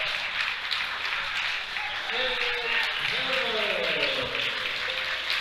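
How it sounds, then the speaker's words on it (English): A crowd at a bench press meet applauds steadily as a broadband wash of clapping, with a commentator talking over it. "He gets a big round of applause from the crowd."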